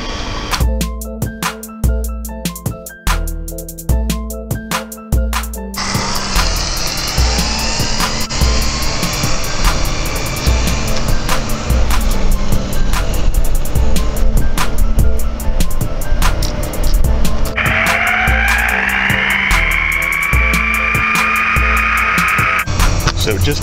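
RC car cruising and then given a hard stab of the throttle, a high electric whine rising sharply in pitch with clicks and bumps, a voice speaking in between.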